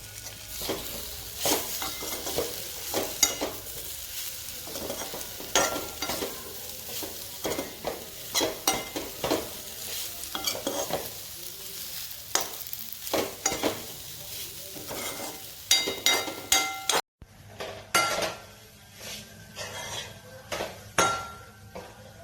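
Date sukhdi mixture stirred and frying in ghee over low heat, with steady scraping stir strokes against the pan, occasional metallic clinks and a gentle sizzle running throughout.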